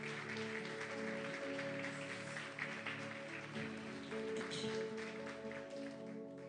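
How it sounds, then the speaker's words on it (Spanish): Church congregation applauding during a worship service, a faint, steady patter of clapping over sustained organ-like keyboard chords. "Dele fuerte aplauso al Señor"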